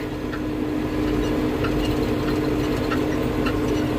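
A tractor engine runs steadily while driving through a village, a loud, constant low rumble with a rattling, knocking texture and no talk.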